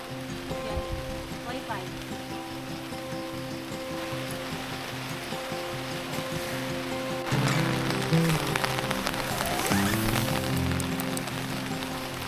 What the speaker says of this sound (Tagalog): Kami inabot ng ulan na naman.